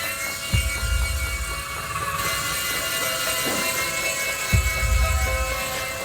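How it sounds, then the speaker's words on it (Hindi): A toy helicopter flies indoors, its steady rotor buzz and whine running loud and continuous throughout, with brief low thumps near the start and end. "ये हेलीकॉप्टर गार्डन में चलाने के लिए है, घर पर नहीं।"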